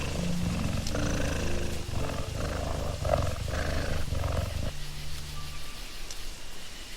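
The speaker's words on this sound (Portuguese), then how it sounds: "Não é um trovão, mas o rugido da espécie dominante." A lion in the Okavango savanna roars in a series of deep, rumbling, grunting bursts for nearly five seconds. Quieter ambient rustle follows once the roaring stops.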